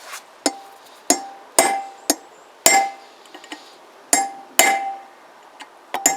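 Sharp metallic hammer blows on a chisel driven against a wheel bearing of a Kawasaki BN125 Eliminator motorcycle, about ten loud, ringing strikes at irregular intervals, each with a brief clanging decay.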